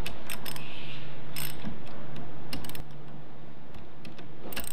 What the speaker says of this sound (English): after making several passes with my ratchet wrench